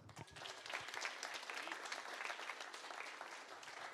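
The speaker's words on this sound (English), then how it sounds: "a big applause to all of us." Attendees at a Speck&Tech tech meetup on free software clap together in a room, a continuous but fairly quiet wash of applause heard from a distance.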